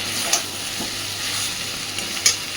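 Spice paste for a Bengali pumpkin chhokka sautés in oil in a pan, a soft continuous sizzle broken by two sharp scraping clinks of a stirring spoon.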